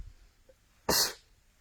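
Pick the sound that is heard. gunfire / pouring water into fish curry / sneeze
sneeze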